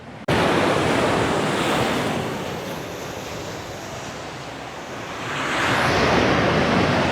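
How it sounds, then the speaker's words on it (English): Ocean waves break on the coast at high tide, a loud, continuous roaring surf with rising and falling swells and some wind buffeting the microphone, with no talking. "those waves are really going for it now."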